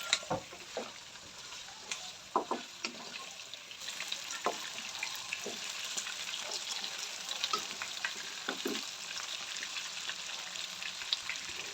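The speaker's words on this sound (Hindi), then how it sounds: "अब इसके अंदर ऐड करेंगे जिंजर गार्लिक को क्रश करके मैंने ऐड किया।" Crushed ginger and garlic fry in a hot pan while a chicken karahi is cooked, giving a steady sizzle with occasional knocks and stirring clatter throughout.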